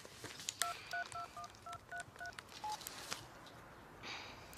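A telephone keypad is dialed as a phone number is entered, giving a rapid series of short, clean DTMF beeps at an uneven tempo, faint behind light room noise, with no talking.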